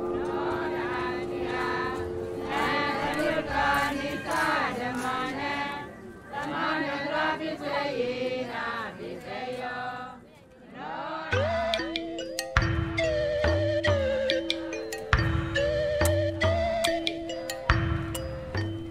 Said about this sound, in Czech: Mingunský bronzový zvon prý váží 90 tun a je největším neprasklým zvonem na světě. A tak to zní.